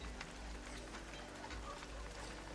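Steady rain ambience plays as background during a tabletop game session, a soft continuous patter and hiss that stays even and unbroken throughout.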